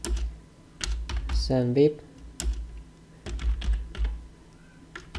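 Typing on a computer keyboard while setting up material folders, heard as scattered clusters of key clicks spread through the clip under a man's speech.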